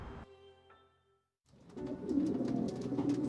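Pigeons coo softly in a short series of low, throaty calls, rising after a brief pause into a fuller, continuous cooing close by.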